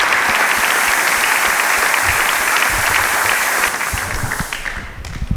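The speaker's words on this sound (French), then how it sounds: "Applaudissez très fort pour lui s'il vous plaît." A crowd at a comedy stage show applauds loudly and steadily, the clapping dense and close before thinning out in the last second.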